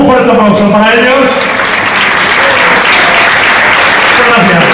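Loud, sustained applause from the audience at an awards gala, steady clapping filling the hall while a voice speaks over the start.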